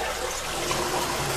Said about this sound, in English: let's give it one last or first flush